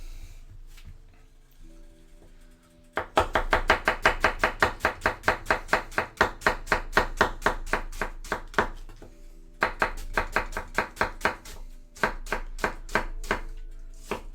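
A knife chops food on a cutting board in quick, even strokes, close and crisp. There is a steady run of cuts, a short pause, then another run of chopping.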